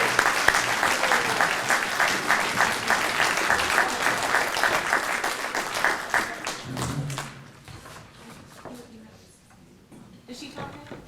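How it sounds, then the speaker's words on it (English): A room full of people applauding at a retirement ceremony, sustained dense clapping for about seven seconds that then fades out, leaving faint voices and scattered taps. "And another round of applause for Holly"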